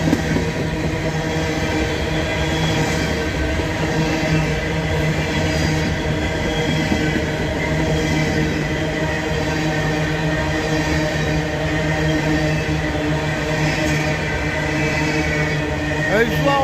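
Freight train hauled by a GP40 locomotive climbing a grade, a continuous loud rumble with steady engine drone and rolling wheel noise throughout.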